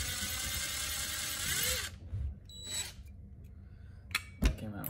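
Impact driver backing a screw out of a Sea-Doo Mikuni carburetor, a short buzzing whir that stops after a couple of seconds, followed by small clicks and handling noises nearby.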